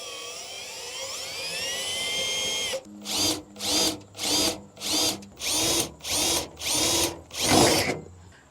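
A power drill with a 3/8-inch bit whines steadily, then bores into a Ford F-250/F-350 Super Duty Tremor while fitting a toolbar, in about nine rhythmic pulsing bursts, close and loud.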